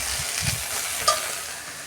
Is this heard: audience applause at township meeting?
no